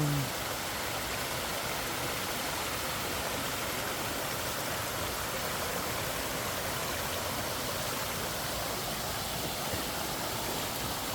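Mountain valley stream water pouring down and rushing over rocks in a Gimsatgat valley, a loud, steady broadband roar of falling and flowing water that continues unbroken throughout.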